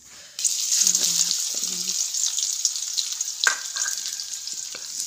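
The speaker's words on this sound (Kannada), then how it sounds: "ಈಗ ಸಾಸ್ಬಿ ಹಾಕ್ಕೊಂಡಿನಿ ಈಗ ಜೀರಿಗೆ ಹಾಕೋತಾ ಇದ್ದೀನಿ ಚಟ್ಪಟ್ ಚಟ್ಪಟ್ ಅನ್ನಬೇಕು" Mustard seeds and cumin sizzle in hot oil in a village kitchen, a sudden steady hiss with faint crackles starting after a moment of quiet, with a brief low voice early on.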